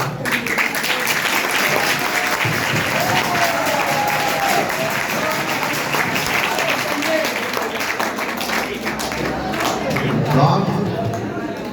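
Sustained applause from a school audience at a Kargil Vijay Diwas ceremony, a steady dense wash of many hands clapping together, with voices murmuring underneath.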